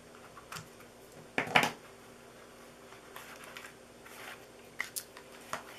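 Scissors snip through glittery ribbon on a Christmas reindeer treat box, a couple of quick close cuts in a quiet room with a few faint handling taps.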